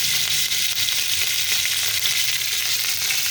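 Panch phoron spices fry in hot oil with tomatoes, giving a loud, steady, continuous sizzle close by with no talking.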